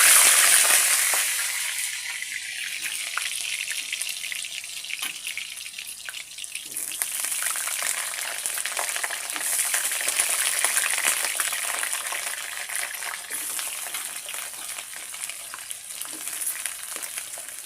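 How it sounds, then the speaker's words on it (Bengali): Potatoes dropped into hot oil sizzle and crackle steadily, a bright frying hiss that carries on throughout with faint stirring and no voices. "তেলটা গরম হয়ে গেছে, এবার আমি আলু দিয়ে দেবো"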